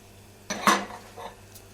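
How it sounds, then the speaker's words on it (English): Prawns, barramundi and calamari drop into a hot pan with shallots and garlic, giving a short, close metallic clatter and a sizzling scrape, followed by a fainter second knock. "Now we can start adding our fish. So we can start with the prawns, the barramundi,"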